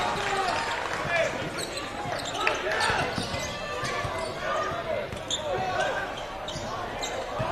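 A basketball bounces on a gym court during a boys high school game, sharp dribble thuds under play-by-play commentary, squeaking sneakers and a busy crowd in a reverberant hall.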